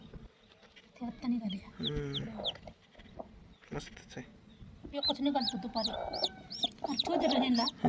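Tall-legged hens cluck and chatter in short rising calls, several birds close by, with people talking intermittently between the bursts.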